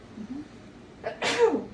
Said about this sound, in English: Hang on, I have a sneeze.